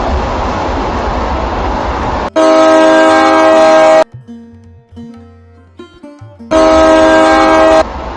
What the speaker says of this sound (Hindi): ट्रेन स्टेशन से निकल जाती है।